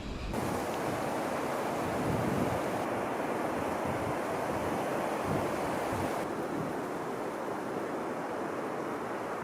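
Strong wind sweeping a lakeside during roach fishing with a pole, a dense continuous roar of gusts buffeting the microphone, loud and unbroken throughout with no talk.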